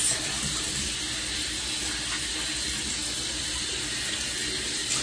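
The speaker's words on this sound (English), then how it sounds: "So you just start off by washing your hands with warm water" Warm tap water runs steadily into a sink as hands are washed at home, a continuous close splashing stream with no talk.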